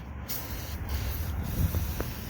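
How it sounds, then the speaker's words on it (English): Battery cleaner aerosol hisses in a steady, close spray across the top of an acid-covered battery on an MCI coach, with a few short pauses in the stream. "So we're just going to spray down the whole top of this because there is a bunch of acid on this battery."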